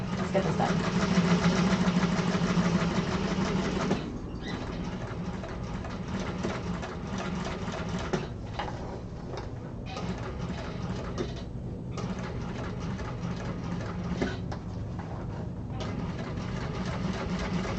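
A sewing machine stitching fabric in a sewing class, steady mechanical whirring that runs continuously at moderate level with a few brief pauses and restarts, heard alone without talk.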